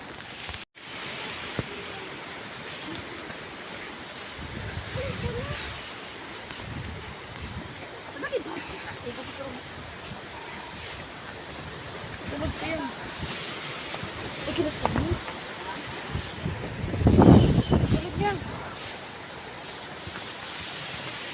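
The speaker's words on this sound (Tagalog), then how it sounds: "Kusog yapon kay hangin diri guys." Strong wind buffets and roars against the microphone, gusting harder toward the end, with surf-like rushing and faint voices underneath.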